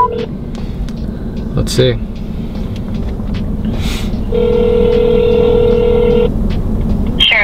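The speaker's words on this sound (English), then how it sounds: "So we're just gonna call them and ask." A phone call being placed: a burst of touch-tone dialing beeps, then a steady ringback tone buzzing for about two seconds, with a person speaking briefly over a low background rumble.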